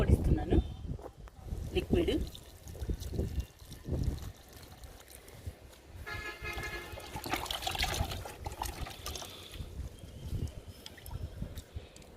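Liquid fertilizer is poured onto potted plants such as pink and red vinca, giving intermittent splashing and trickling close by, with someone talking over much of it.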